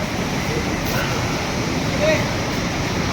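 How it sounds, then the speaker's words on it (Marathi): Saraswati river rushing near Mana village by Badrinath, a constant broad roar of fast water filling the scene, with wind noise on the microphone. "इथे सरस्वती नदी तुम्ही बघू शकताय."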